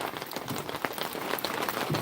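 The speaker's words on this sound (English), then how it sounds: "Out of nowhere, the rain comes." Sudden heavy rain pours down outdoors, a dense close crackle and patter of drops striking surfaces, steady and loud throughout.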